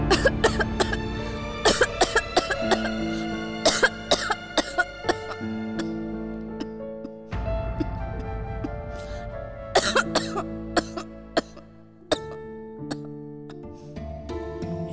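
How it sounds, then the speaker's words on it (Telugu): Several sharp coughs in short bursts, interspersed with clattering and ringing metallic knocks, close by, with no clear speech. "ఏమైందా దగ్గుతాను?"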